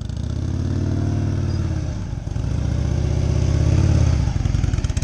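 A motorcycle engine holds a steady low-speed throttle on a slow-riding skills course with cones, a loud continuous rumble that dips briefly midway and then swells again before easing off.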